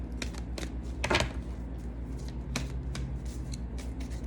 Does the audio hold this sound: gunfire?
no